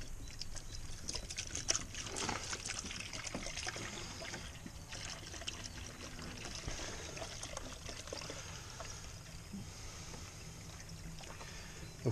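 Coolant mixed at fifty percent poured steadily from a container into a vehicle's cooling system, a continuous liquid trickle and gurgle lasting throughout with no talking.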